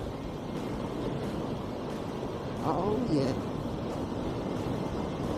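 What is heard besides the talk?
strong wind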